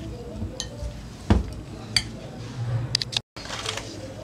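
Red chili sauce being mixed in a bowl for lemon chatkara boti, with a few scattered clinks and scrapes of a spoon against the dish and a brief dropout near the end.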